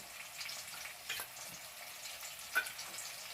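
Ginger and garlic paste sizzles softly in a pan with cooked-down onion and tomato, a faint steady frying hiss broken by a couple of small pops.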